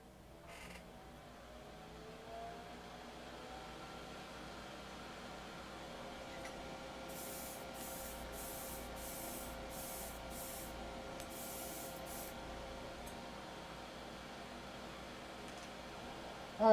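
Plastic parts from a Master Grade Gundam model kit are primed with a spray airbrush. A faint, steady hiss runs throughout, broken by a series of short, regular spray bursts.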